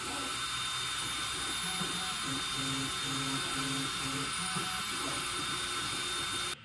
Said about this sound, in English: Let's switch to spread cycle mode just to see what it sounds like.